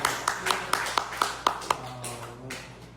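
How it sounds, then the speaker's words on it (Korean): A church congregation claps together in a brief burst of sharp, evenly spaced hand claps at moderate distance, thinning out after a couple of seconds. "박수 한번 주시죠."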